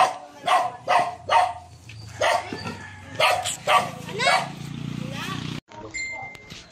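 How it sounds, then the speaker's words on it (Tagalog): A dog barks repeatedly nearby in sharp, spaced bursts, then yelps a few more times under low background noise. "Maingay po kasi may aso."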